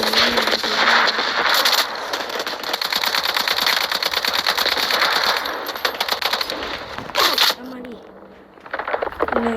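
Rapid automatic gunfire rattles continuously through a firefight in the video game Urban Heat, loud and dense, with brief breaks and a sharp burst near the end, while someone talks underneath.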